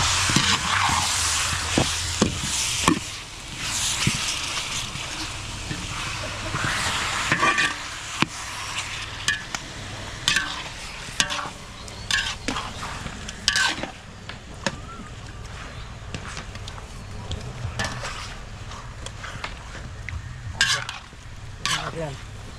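Garlic, onion and butter sautéing in a large pot for a big event cook: steady loud sizzle under repeated clanking, scraping stirs of a ladle against metal, close and continuous, with occasional faint voices.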